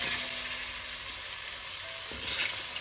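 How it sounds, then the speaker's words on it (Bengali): Radish pieces hit hot oil in a pan for a masoor-style kalai dal, raising a loud, continuous sizzling hiss with faint tonal hums running beneath and a slight swell toward the end. "এবার আমি মূলোটা দিয়ে দিচ্ছি।"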